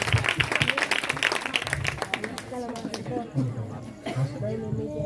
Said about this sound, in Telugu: గట్టిగా చప్పట్లు కొట్టండి మిరియం కోసం.